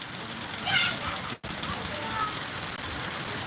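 Heavy rain pouring in Kinwat, Nanded, a dense, steady broadband hiss close by, unbroken except for a momentary dropout, with faint voices in the background.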